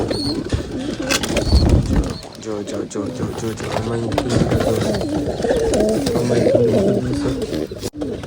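Pigeons coo softly in the background while someone talks loudly in Gujarati over them almost continuously, with a brief burst of handling noise near the start.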